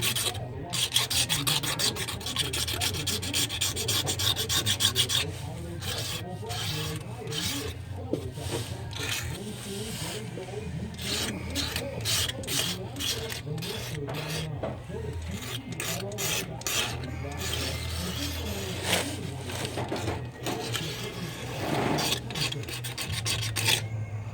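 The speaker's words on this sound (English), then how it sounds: "Then I'm going to scrape the gasket off of the rear end housing." Steady rasping scrape of a tool working an old gasket off the rear end housing of an EZGO electric golf cart, continuous gritty strokes close up for the whole stretch with no talking.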